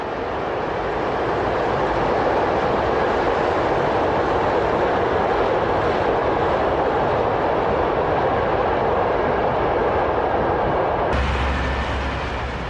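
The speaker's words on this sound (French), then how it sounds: "c'est sur la voie des Seigneurs que s'élance notre express" An express passenger train pulls out along track 1 at a large Paris terminus on the Paris–Dijon main line, giving a loud, steady, broadband rumble with no pause. Near its end comes a sudden change as a low hum rises underneath.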